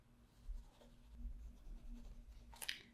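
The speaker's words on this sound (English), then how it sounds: "I'm going to draw some areas in one color." Caran d'Ache Neocolor II wax crayon drawn across paper, a faint close scratchy rubbing in soft repeated strokes, ending with a brief sharper scrape.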